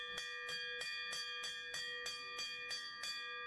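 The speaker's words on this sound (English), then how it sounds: "the sellout bell timer went off. I had to ring the bell" A bell from a restaurant tycoon game rings in a steady series of about ten evenly spaced, bright metallic strikes, each with a sustained ringing tone, loud and close with no talk.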